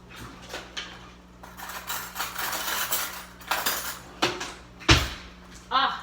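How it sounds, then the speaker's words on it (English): A fork stirs pasta seasoned with black pepper in a kitchen, giving close, irregular metallic clinks and scrapes against the dish over several seconds, with a few sharper knocks near the end. "Okay, I'm gonna mix it up. Let me grab a fork."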